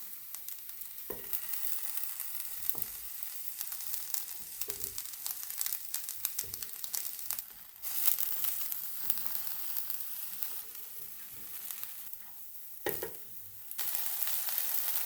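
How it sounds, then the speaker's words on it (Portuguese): Eggplant pieces frying in oil in a pan, a steady soft sizzle broken by occasional scraping knocks and stirring clatter as the pieces are turned. "deixar dourar e ir virando a berinjela"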